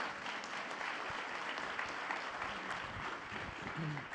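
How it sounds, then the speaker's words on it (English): A conference audience claps continuously for Gary, a broad, steady wash of applause at moderate distance, with a faint voice briefly audible near the end. "Everybody give Gary a round of applause"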